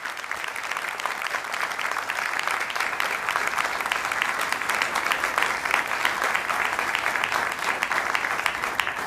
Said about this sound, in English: give all of our honorees another round of applause